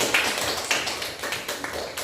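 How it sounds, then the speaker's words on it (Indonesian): A classroom of students claps for a discussion group: a brisk burst of mixed hand claps, close and steady for about two seconds, with a few sharper slaps standing out. "Tepuk tangan untuk kelompok"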